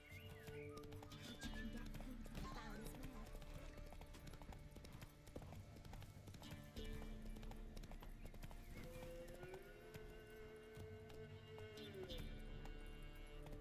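Roach, a horse in The Witcher 3, clip-clops along steadily on its hooves at a moderate pace, with a brief whinny partway through, over a continuous ambient game soundscape with no talking.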